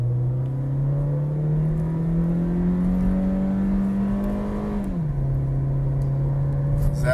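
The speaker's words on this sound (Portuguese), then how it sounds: "Vou dar um acelerado pra vocês verem aqui" A 2020 Volkswagen Polo with a 1.6 engine revving at idle: a steady engine drone climbs gradually in pitch, then drops back abruptly and settles, heard close and continuously.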